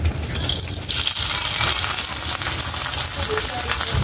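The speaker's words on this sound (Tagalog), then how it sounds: "magluto na po tayo ng tuyo" Tuyo, dried fish, frying in a pan with a loud, close crackling sizzle and a few light metallic clinks, with faint voices in the background.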